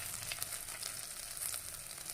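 Brinjal hits hot tempering in a pan for a stuffed brinjal curry made without onion or garlic, producing a soft, continuous sizzle and crackle that stays faint and even throughout.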